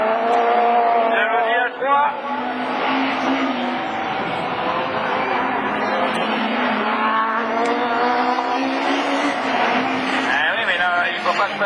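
Rallycross cars race wheel to wheel at Lessay in 2013, an Audi A3 closing on a Peugeot 306 in the Division 4 field. Loud, sustained engine roar with shifting revs runs throughout, with a voice talking over it.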